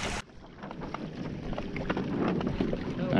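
A Hobie Adventure Island sailing kayak moves across the water, with a steady wash of water and wind rushing past. The noise builds gradually and stays close, with no speech.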